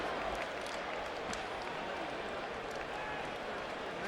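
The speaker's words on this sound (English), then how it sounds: "A mixed response from the crowd after a whitewash domination of Baldomir" Boxing crowd in an arena reacting with scattered applause and murmuring after Floyd Mayweather's one-sided win over Carlos Baldomir, a steady dense roar of many voices and claps that holds for the whole stretch.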